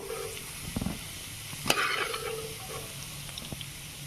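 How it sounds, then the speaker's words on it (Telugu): Ginger pieces fry in a pan for mango pulihora with a soft, steady sizzle and the occasional clink of a stirring spoon, close but fairly quiet, with no speech. "బాగా ఫ్రై అవ్వాలండి అల్లం ముక్కలు ఫ్రై అయిపోయినండి"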